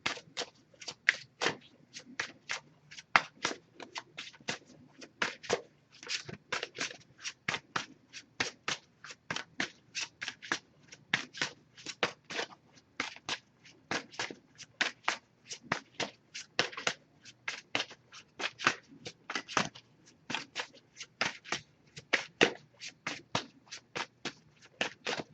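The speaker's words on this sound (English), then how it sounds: "Just going to pull a single card from this deck." Oracle cards riffled and shuffled by hand for a single-card pull, a long run of quick crisp flicks and papery slaps repeating steadily and close up, with no talking.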